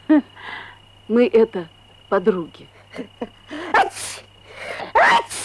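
A person sneezes loudly and close, two sharp bursts near the end, following conversation in Russian between women in a home setting from a 2008 Uzbek film.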